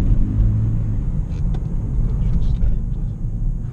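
Toyota Prius hybrid car driving, a steady low rumble of road and cabin noise heard from inside, with people talking over it.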